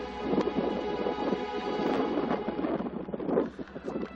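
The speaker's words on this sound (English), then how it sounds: "It's getting windy" Gusty wind on Cleethorpes beach buffets the microphone with a low, rumbling roar that rises and falls continuously for several seconds.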